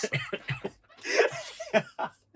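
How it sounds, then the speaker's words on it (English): A single rough cough lands close to the microphone, set between bursts of nearby talking and a brief chuckle. "I'm coughing directly into the mic"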